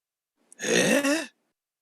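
A single throat-clearing, a short raspy voiced rumble lasting under a second, close and isolated in silence, preceded by a tiny click.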